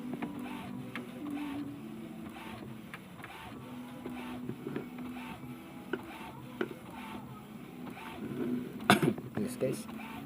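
An HP Smart Tank 615 inkjet printer whirs and hums as the print head shuttles back and forth in steady passes, ending with a few sharp mechanical clicks and clacks.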